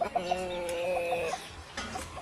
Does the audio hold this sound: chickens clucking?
yes